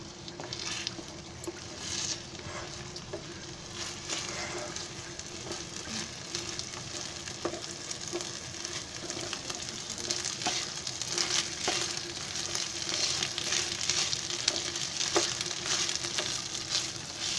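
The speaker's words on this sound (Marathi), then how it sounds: "चांगले गोलून ते तुपामध्ये चांगले भाजून घ्यायचे." Rice roasting in ghee in a pan over a high flame, a dense continuous sizzle with frequent scraping and stirring strokes, close and steady throughout.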